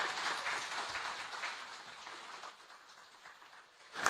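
Faint, distant applause from a pageant audience fades out over a few seconds, with a soft hiss of scattered clapping.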